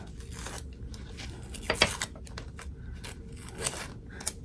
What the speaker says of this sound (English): You could take this tape off.